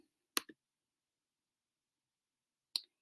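Two crisp computer mouse clicks sound close in a quiet room, the first a quick double snap and the second a single sharp click about two seconds later.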